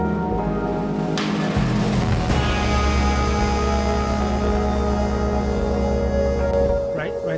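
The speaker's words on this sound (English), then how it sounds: "This is a very famous synthesizer. It was the first polyphonic Aftertouch synth." Arturia CS-80 soft synth emulation playing a thick, sustained polyphonic chord with a deep droning bass, loud and steady throughout, with a brighter swell entering partway and a brief fade near the end.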